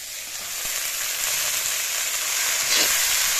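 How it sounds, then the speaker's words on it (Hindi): Oil and chillies sizzling in a pan for cooking greens, a steady hiss of frying that swells slightly over time, close by with no talk. "अब मैं इधर साग बना लेती हूँ, इसमें तेल और मिर्च डालनी हूँ।"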